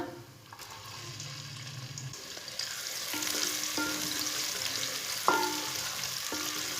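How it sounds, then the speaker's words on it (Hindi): Chopped onion fries with whole coriander and cumin seeds in hot oil, a steady hiss and sizzle that grows slightly louder, broken by a few clicks and scrapes of stirring. "प्याज को हल्का सा ब्राउन कर लेंगे।"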